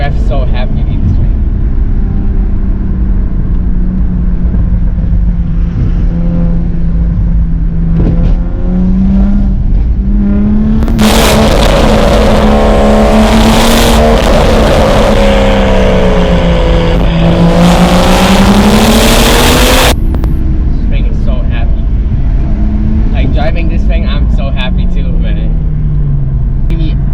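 A BMW M235i with a six-speed manual, its engine droning and then revving hard for several seconds with a loud, strained roar before easing back, heard from inside the car with someone talking over it.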